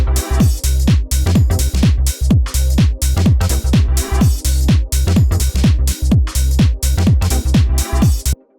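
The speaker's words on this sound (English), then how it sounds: "Give it a bit of drum bus." Minimal house synth chord stabs pushed through a drum bus effect, punchy and gritty, repeat in a fast steady rhythm alongside thumping kick-like hits, loud and close with no voices.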